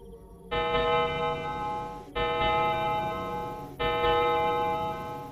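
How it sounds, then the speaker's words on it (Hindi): An old wall clock chimes in slow, evenly spaced ringing strokes, three bright resonant bell tones each sustaining and fading before the next, close and clear with no voices. "तभी पुरानी दीवार घड़ी ने 12 बार घंटी बजाई।"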